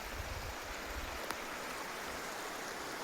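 A hill river in Nepal flowing, a steady broadband rush of water with no speech, even and continuous at moderate distance.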